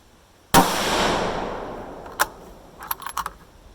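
A single loud, sharp shot from a Ruger rifle in 6.5 Grendel firing a Hornady 120 ELD load, followed by a long decaying outdoor echo and then small metallic clicks and rattles from the action.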